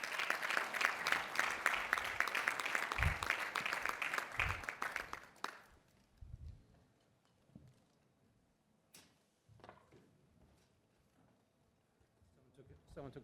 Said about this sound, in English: Please give a round of applause as I welcome Rob, Yuka, Phani, and Liz on the stage.